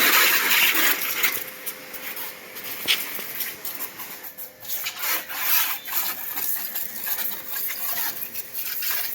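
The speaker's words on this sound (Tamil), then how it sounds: "அந்த கண்ணிலேருந்து போகக்கூடிய வாட்டர் பார்த்தீங்கன்னா பைக் மேலே பட்டு அதுலேருந்து வர சவுண்டு உங்களுக்கு கேட்கும்னு நினைக்கிறேன்" A high-pressure washer sprays water onto a bike in a steady, hissing rush with gritty spattering texture, close and continuous throughout, with no voices.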